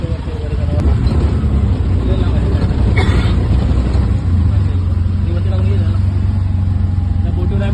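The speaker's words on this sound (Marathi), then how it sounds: "गाडी आपली चालली आहे बोटीवरती वगैरे." A car's engine runs steadily aboard a moving boat on a ferry crossing near Virar West, a loud continuous low rumble mixed with water and crowd babble throughout.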